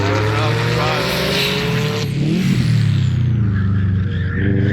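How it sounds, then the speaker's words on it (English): A Toyota GR Yaris race car roars loudly past with a rising, then dropping engine note and some tire squeal; the engine sound stays strong throughout. "Here comes a little GR Yaris"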